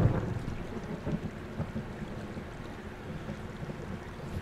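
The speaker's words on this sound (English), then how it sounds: "Hey, I heard some thunder." Thunder rolls in the video game Firewatch, a low rumbling boom at the start that settles into a steady murmur of wind and rain-like noise, with no talking.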